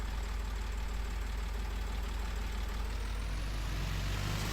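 A farm tractor engine idles steadily nearby, a constant low rumble that stays loud and even, with no voices over it.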